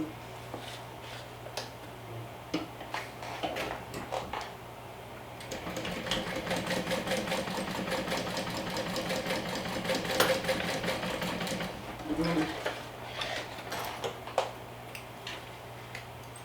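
A sewing machine topstitches a bag lining, running in a steady rapid stitching patter that grows louder and denser partway through, with short pauses between runs.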